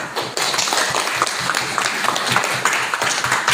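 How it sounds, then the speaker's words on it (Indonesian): Students in a classroom clap for their classmates, a short burst of close, uneven applause from a small group, lively but brief. "Kali kita berikan tepuk tangan untuk teman-teman kita."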